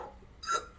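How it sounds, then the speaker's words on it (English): A single short hiccup, close and fairly quiet, in a calm indoor morning setting with no talking. "oh, sorry, good hiccups"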